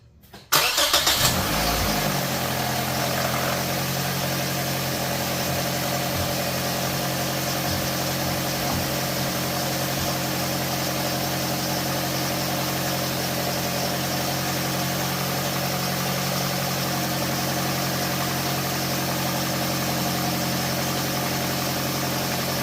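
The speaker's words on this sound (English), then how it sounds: "This car's cold, so it's going to have high idle." A cold car engine cranks briefly and catches, then settles into a steady, loud high idle with a constant close drone; no one speaks.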